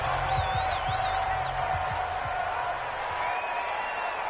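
Crowd noise in an American football video game, a broad sustained roar before a third-down play, with a commentator's voice and whistling tones riding over it.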